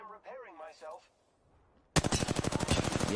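Assault rifle fire in Apex Legends erupts after a short stretch of talk, a loud rapid burst of automatic shots continuing steadily to the end.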